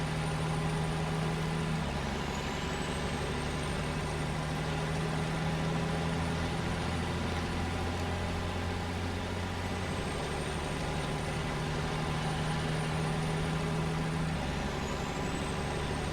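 A heavy truck in the Snowrunner video game grinds up a hill in low ratio, its engine holding a steady, loud, droning strain with no let-up in revs throughout.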